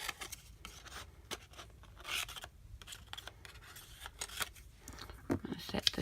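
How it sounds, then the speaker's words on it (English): Scissors fussy cutting a paper reindeer cut from metal-die scraps, a run of close, soft snips and papery rustles in an uneven rhythm. "I'm going to cut him out. Just going to fussy cut him right out."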